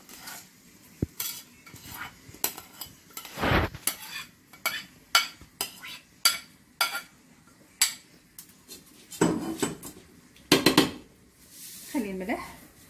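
Rice poured into hot oil in a pot and stirred with a spoon, giving a series of short scraping and clinking strokes against the metal, some louder bursts of rattling grains, with quiet gaps between.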